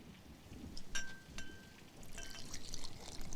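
Gin is poured into a glass, a short faint liquid trickle with light clinks of glass, heard close up against a quiet background.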